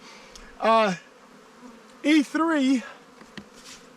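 Honey bees buzz close by at a queenless, failing hive during a December inspection, in three short, loud bursts with brief quiet between them, and a single word is spoken.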